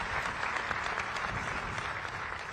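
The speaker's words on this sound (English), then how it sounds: "I would like you to join me in clapping for Mark and his team and all of us" Sustained applause from an audience at the launch of the Lumwana Mine Super Pit expansion project, a dense, steady wash of many hands clapping throughout with no pause.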